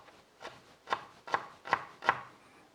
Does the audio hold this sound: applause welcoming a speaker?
no